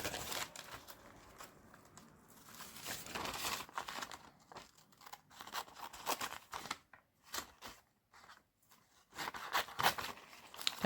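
Scissors roughly cutting fabric backed with Bondaweb, a steady run of crisp snips and papery crinkling at close range, with a few brief pauses.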